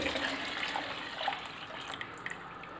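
Water poured into milk in a pot for rice kheer, a continuous close splashing stream with small bright drips, heard alone.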